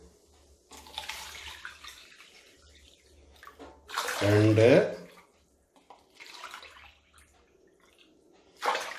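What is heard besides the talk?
water being poured cup by cup into a pot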